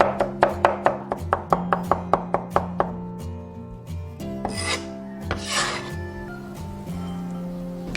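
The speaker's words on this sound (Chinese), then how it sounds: "然后切成蒜末" Rapid knife chopping on a cutting board as garlic is minced, about fifteen quick, evenly spaced sharp chops close by over a few seconds, then quieter scraping and rustling with a faint background hum.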